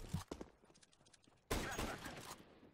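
Gunshots in the CS:GO competitive game, a few quiet distant cracks followed by a louder burst of rapid fire, faint overall.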